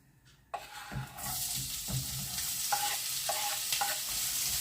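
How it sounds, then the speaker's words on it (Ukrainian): Onion frying in hot sunflower oil in a pan, a sudden loud sizzle bursting in and settling into a steady crackling hiss with occasional stirring scrapes, close and continuous without talk. "Олійка зашкварчала."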